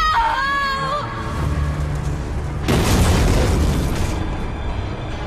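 A main power generator explodes in a sci-fi space combat scene. A loud, sustained boom and roaring blast follow a tonal electronic whine, with dense rumbling debris noise that stays heavy to the end.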